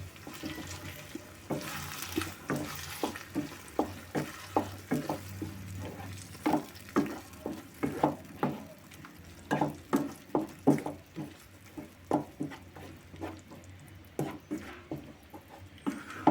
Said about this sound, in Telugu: ఒకసారి మొత్తం కలుపుకుందాం.